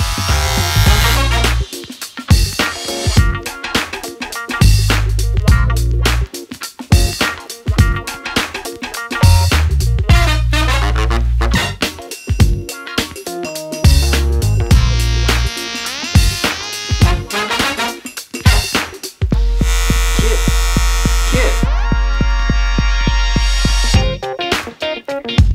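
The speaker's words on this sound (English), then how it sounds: "have fun watching me shave" An electric razor trims facial hair, buzzing loudly and close up in many stop-start passes, its pitch shifting as it presses against the skin, running for nearly the whole stretch with no speech.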